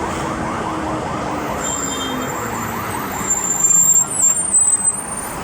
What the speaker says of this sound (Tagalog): meron ng bus na dumating.